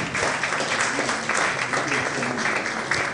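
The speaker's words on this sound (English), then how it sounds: "let's clap Salahuddin." Dense, steady applause from an audience at a university masterclass on content creation for faculty members, a continuous wash of many hands clapping at even loudness throughout, with faint voices beneath.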